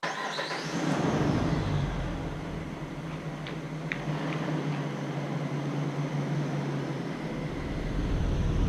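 A Jeep drives through at night, its engine and tyre rumble forming a steady, moderately loud wash of road noise that holds for the whole stretch.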